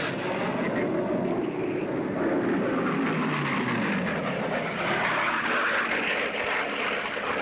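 A racing airplane engine making over 3,000 horsepower at around 510 miles an hour, a continuous loud, rough roar that holds steady for several seconds with no talk over it.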